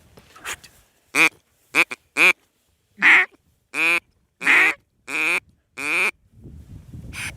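A duck call is blown repeatedly by a hunter, giving a series of loud, nasal quacks, some quick and clustered, others spaced about a second apart, close up with no talking over them.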